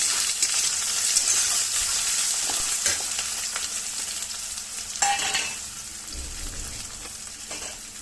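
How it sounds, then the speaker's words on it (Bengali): Onions fry in oil in a wok with a steady near sizzle, broken by repeated scraping and clinking of a spatula stirring and tossing them. "পেঁয়াজটা ভাজা ভাজা হবে"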